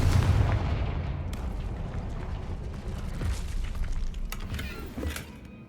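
Confringo blast spell cast in the video game Hogwarts Legacy: a heavy booming explosion up front, then a long rumbling decay with scattered crackles and debris impacts, no talking.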